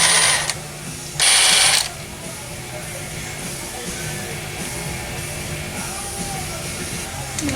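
An impact gun turned to its lowest setting, working on a high-mileage Chevy 2500HD during a reseal, gives two short loud mechanical bursts near the start, followed by low steady shop background.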